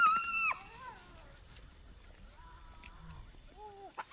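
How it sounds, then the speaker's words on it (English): Hyenas squabble over an impala carcass, giving sporadic high whining squeals and yelps over a low rustling background, with a few sharp bursts of calling at the start and near the end. "Hyenas are ripping an impala kill apart."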